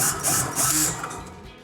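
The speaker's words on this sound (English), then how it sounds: "So now we're gonna go ahead and put the two screws back in that came out of the front." A brief, close grinding and rasping of a screw being driven back into the front of a Whirlpool refrigerator, in two or three short bursts that fade out.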